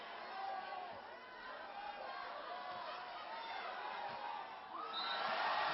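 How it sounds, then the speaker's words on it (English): Spectators at a beach volleyball semifinal in Maceio roar and cheer on their feet, a broad, steady crowd din that swells louder near the end beneath a commentator's voice. "The crowd on their feet."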